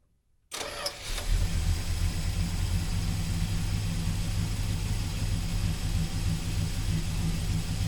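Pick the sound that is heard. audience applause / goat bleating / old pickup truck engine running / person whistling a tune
old pickup truck engine running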